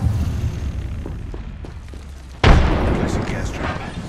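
A frag grenade in Apex Legends detonates with a sudden loud boom midway, followed by a lingering rumble, after a stretch of quieter gameplay noise and distant shots.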